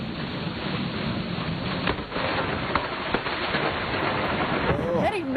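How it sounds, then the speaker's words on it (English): Thunder from a lightning strike rolls through a heavy, steady wash of rain during a tornado-producing storm in Comanche County, a dense broadcast-quality roar with a muffled rumble partway through. "Let me show you what was not hard to make out, and it was this lightning strike."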